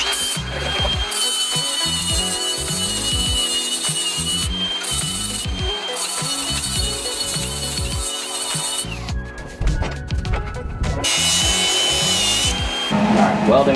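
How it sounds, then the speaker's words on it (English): A power grinder works the rusty metal of a go-kart before welding, a loud continuous whining grind close by with shifting pitch and brief breaks in contact throughout. "now I'm grinding this off, so when I put these on here to weld, you get good contact"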